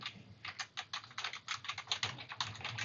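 Computer keyboard typing while entering Latin and common plant names into a field-mapping dropdown list: a steady run of quick, close key clicks with short pauses, no voices.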